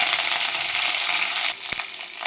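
Curry leaves hitting hot oil with green chillies and fennel in a pan for chana masala, a loud steady crackling sizzle with a sharp clink partway through.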